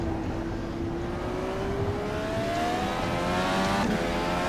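A DW-12 IndyCar engine in the racing sim rFactor 2 at Mid-Ohio winds up through the gears. The whine rises steadily, with a shift and another climb, over a constant broadband roar, and nobody speaks.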